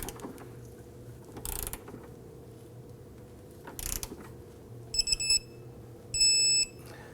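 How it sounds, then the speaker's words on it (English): A torque wrench tightens the fuel tank bolts on a 2005-2009 Subaru Legacy 2.5L H4 to 129 foot-pounds. Two short ratcheting bursts come first, then two crisp electronic beep signals near the end, over a low steady background hum. "Let's go ahead and torque down our bolts."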